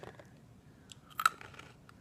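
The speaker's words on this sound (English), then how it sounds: "They still have a really great crunch." Someone bites into a crunchy fried snack from the Philippines, a couple of faint close crisp crunches and chewing sounds in a quiet room, with no talking.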